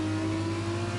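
Formula 2 race car engine in a video game, Algarve circuit, revs up toward full speed, a steady buzzing, high-pitched drone holding for about a second with no voices.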